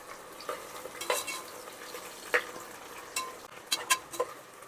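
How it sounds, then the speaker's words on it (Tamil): Onions and green chillies are stirred in a pan for chicken biryani, with a sizzling hiss underneath and scattered sharp scrapes and clinks of a spoon against metal, the loudest bursts coming near the end. "நல்லா கிளறி விடணும்"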